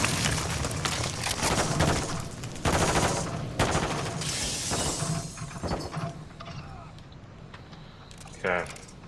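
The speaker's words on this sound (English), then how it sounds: "Friendly airstrike on the way." Airstrike explosions and gunfire in the Call of Duty Modern Warfare video game, a series of loud booms and rattling bursts in quick succession, up close, mixed with talking over the game.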